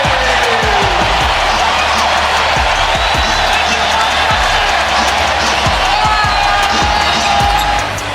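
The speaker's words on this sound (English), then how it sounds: "The crowd loses it before he's even done." A loud NBA arena crowd roars and cheers continuously, with sharp thumps of a bouncing basketball cutting through the noise.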